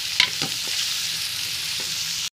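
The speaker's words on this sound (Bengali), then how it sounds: "সুন্দর করে এরকম করে ভালো করে আগে পেঁয়াজগুলোকে ভেজে নিব। পেঁয়াজ, কাঁচামরিচ, টমেটোকে ভেজে নিব।" Onions, green chilies and tomatoes sizzle in a pan while being stirred, with a couple of sharp scrapes near the start over a steady close hiss that cuts off abruptly.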